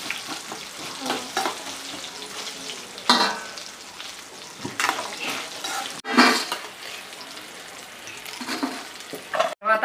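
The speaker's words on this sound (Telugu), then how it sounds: "తర్వాత ఇదే బండిలో ఆయిల్ కాస్త ఉంచుకొని ఈ టమాటా కాయలు వేసి అలా పక్షాలుగా కోసేసుకొని మగ్గించాలి" Tomatoes fry in oil in a pan for a tomato, coriander and coconut chutney, giving a steady close sizzle broken by scraping stirs and a few sharp clatters of a utensil against the pan.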